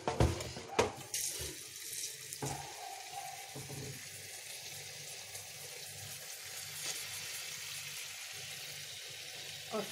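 Water runs steadily from a tap into an aquarium being cleaned, a continuous gushing stream with a few knocks and splashes near the start.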